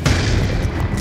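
Concussion grenade detonating in Call of Duty Black Ops 2 multiplayer, a single loud, dull boom that fills the whole second with a rumbling body, with no voices over it.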